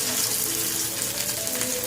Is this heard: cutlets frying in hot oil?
yes